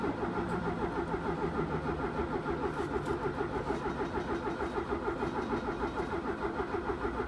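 A 1980 Fiat 124 engine cranks over after a shot of starter fluid, the starter churning in a fast, steady rhythmic chug that runs continuously without catching, close and moderately loud with no talking.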